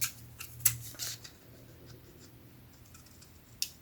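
Scissors snip through small fabric scraps for a patchwork tutorial, making a few faint, quick cuts close by. The snips fall early in the clip, with one more near the end, all over quiet background.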